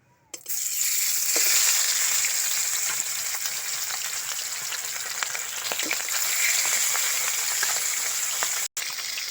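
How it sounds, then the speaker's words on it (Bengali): Fish frying in hot oil in a wok gives a steady, loud broadband sizzle that starts abruptly and continues with little crackles throughout, with no talking. "তেল গরম হয়ে গেছে, এবার মাছগুলো ভেজে নেব।"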